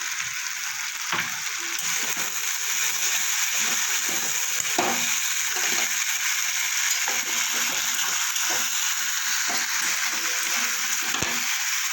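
Chopped tomatoes and salt go into a pan of frying charapona fish curry (macher jhol), giving a steady loud sizzle with intermittent stirring scrapes throughout.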